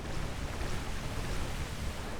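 A waterfall in the Tomb Raider Anniversary video game rushes as a steady, soft hiss of falling water, constant and fairly faint, with no voices.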